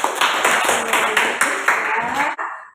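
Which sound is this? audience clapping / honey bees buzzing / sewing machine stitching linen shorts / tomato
audience clapping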